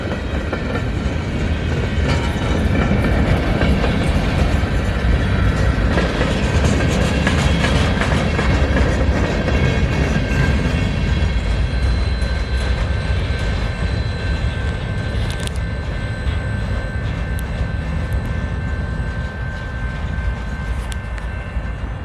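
CN freight train L520 rolls eastbound past with new hopper cars near Battle Creek, Michigan, a loud continuous rumble with wheel clatter and squealing flange tones sustained throughout.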